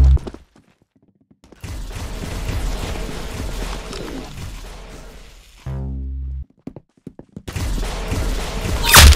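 Rapid bursts of gunfire and hard impact sounds in the Roblox shooter Arsenal, loud and dense, with a short pause before another flurry of shots.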